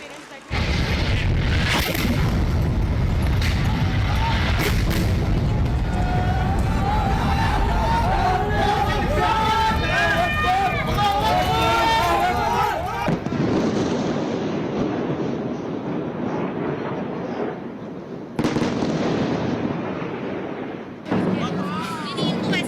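As performers take the stage at a school annual function, an audience breaks into loud, dense applause and crowd noise for more than ten seconds, then it thins into scattered claps and murmuring voices.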